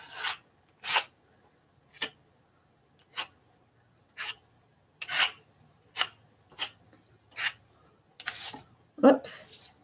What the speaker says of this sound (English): I'm just picking up a tiny little bit of paint and I'm just going to scrape it on